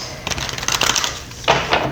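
A deck of tarot cards is shuffled by hand close by, giving brisk, crisp riffling clatter in two quick bursts, loud and alone, with no talk.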